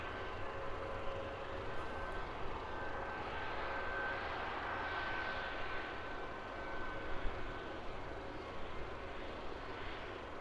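A fixed-wing aircraft at London Luton Airport rolls along the runway, its engines a steady, continuous drone heard from a distance and holding fairly even throughout.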